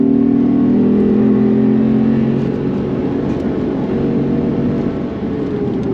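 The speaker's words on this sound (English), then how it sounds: "Love the downshifts." A high-mileage Lexus IS F on the Nürburgring: loud, steady engine drone with shifting pitch as it revs and downshifts, continuous and close throughout, with no talking.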